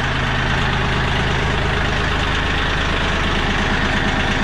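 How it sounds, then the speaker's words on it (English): A Kioti CK3510 hydrostatic-drive compact tractor's diesel engine idles loud and close after a fuel filter change, a steady rough low rumble with a fast, even knock and no voices. "I will let them run for a little while just to make sure all the air is kind of bled out of the system."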